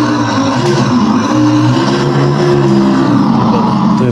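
Steady electric motor hum from a toy ride-on car rolling forward under accelerator power, a constant whirring drone with slight wavering, close and continuous throughout.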